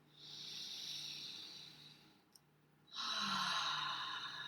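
A slow, deep in-breath during a yoga session, soft and breathy, held steady for a couple of seconds, followed by a brief pause and then a louder, fuller airy rush of breath close to the microphone.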